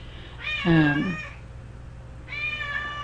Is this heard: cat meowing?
yes